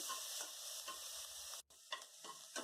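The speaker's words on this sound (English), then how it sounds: "fry it well" Onions frying in oil in a pan for a vegetarian amaranthus and fenugreek biryani, a steady close sizzle with stirring scrapes and a brief dropout partway through.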